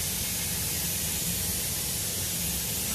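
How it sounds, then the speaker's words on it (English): Airbrush spraying paint for a speckling finish, a steady, even hiss of fine spray held close and continuous throughout with no pauses. "as it's spraying out, it's covering nice and even."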